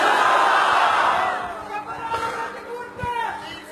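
Crowd at a religious gathering, a dense mass of voices chanting and calling out together, loud at first and then thinning into scattered shouts and chatter.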